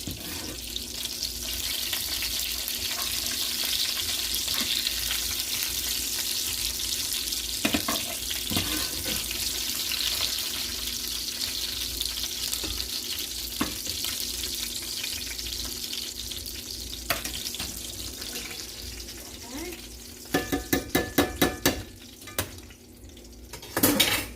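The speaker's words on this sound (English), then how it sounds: "Go ahead and mix them up really well." Hashbrown and Angus beef meatball casserole ingredients being mixed by hand, a steady broad hiss with faint scraping, then a burst of rapid clicks and knocks near the end, no talk.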